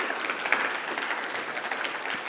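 An audience applauds warmly for Leonie Miller at a team night event, a dense, steady wash of clapping with a few whoops lasting the whole stretch.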